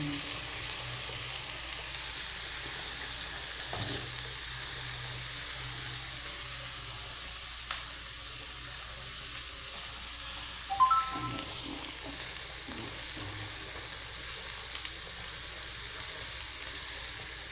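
Tomatoes go into a hot pan and sizzle steadily for the whole stretch, a constant close frying hiss with occasional soft stirring knocks and a voice speaking now and then.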